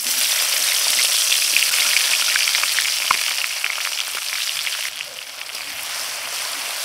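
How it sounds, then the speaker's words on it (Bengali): Chopped onions frying in mustard oil in a wok for a village-style duck curry, a dense close sizzle with crackling pops that eases slightly toward the end, no voices. "পেঁয়াজটা হালকা একটু ভেজে নেব।"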